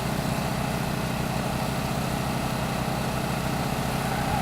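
A quad ATV engine runs at a steady, constant drone with a fast rhythmic putter underneath, loud and close, holding unchanged throughout with no voices.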